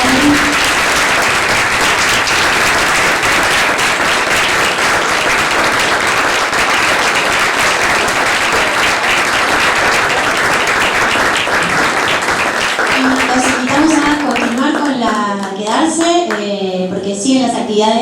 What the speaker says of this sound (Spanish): les pido un fuerte aplauso para los actores